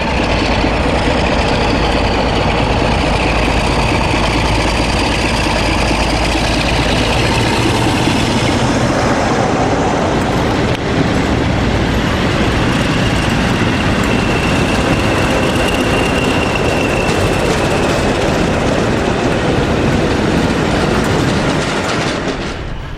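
Diesel locomotive 47828 hauling a DRS convoy of locomotives 37409, 607, 2303, 301, 302 and 304 through Leamington Spa, a loud, steady rumble with rolling wheel clatter carrying on throughout without any talk.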